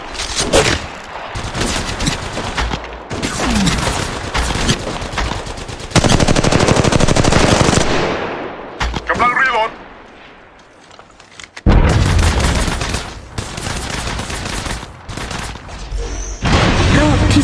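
Gunfire in the mobile shooter Apex Legends Mobile: loud, rapid automatic bursts come in long stretches, broken by a short quieter gap before firing resumes.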